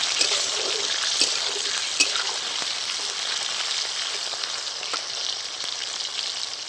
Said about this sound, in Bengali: উচ্ছে আর কাঁচকলাটা আমি একই রকম করে ভেজে নেব।